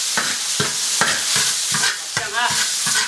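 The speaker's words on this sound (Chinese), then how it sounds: "料包炒一下" A seasoning packet is stir-fried in a hot wok, sizzling loudly under a quick, regular rhythm of spatula scrapes and tosses, roughly one stroke every half second, close up and without speech.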